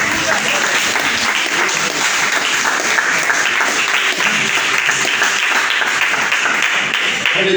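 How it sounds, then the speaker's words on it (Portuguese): A Pentecostal church congregation in Mogi Guaçu, Brazil, claps loudly and continuously in a sustained, dense round of applause lasting several seconds, close and full with no speech on top. "Dê uma salva de palmas para Jesus bem forte."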